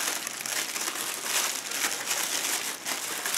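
Brown packing paper crinkles and crumples steadily as it is unwrapped from around a breakable item in a Disney subscription box, close and continuous with no talk.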